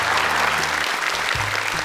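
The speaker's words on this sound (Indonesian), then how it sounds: "Boleh tepuk tangan untuk Dewan Juri." Studio audience at a televised Indonesian Quran recitation competition, Hafiz Indonesia 2020, applauding the jury panel; dense, steady clapping from a crowd holds at full level through the brief moment, with no voices over it.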